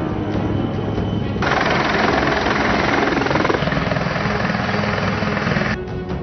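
A helicopter flying a flood rescue during heavy rain, its rotor chop loud and continuous, growing denser midway and holding steady throughout.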